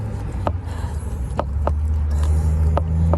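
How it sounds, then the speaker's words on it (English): Near highway traffic passing in a steady low rumble that builds slightly, with a few sharp ticking taps, likely footsteps or a dog's paws, on top. "past this highway because there's so much traffic"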